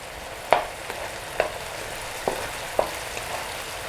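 Sliced galangal, bay leaves and lemongrass frying in a rendang pan, a steady soft sizzle with a few sharp stirring clinks spaced about a second apart.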